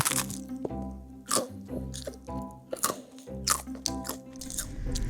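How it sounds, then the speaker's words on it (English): Close, loud bites and chewing of a crunchy fried TikTok-recipe snack, several crisp cracking bursts spread irregularly across the stretch over a constant low tonal background. "I hear the crunch. You hear that crunch?"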